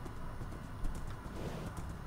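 A horse in the Minecraft video game clip-clops along in quick hoof steps at moderate volume, heard alone over a noisy background.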